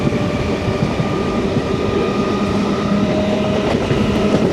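A MEMU passenger train in Kerala runs steadily on the rails, heard from inside a second-class coach as a loud continuous rumble with faint wheel clatter and no talk.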